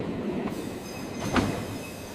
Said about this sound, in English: Looks like our train is finally here.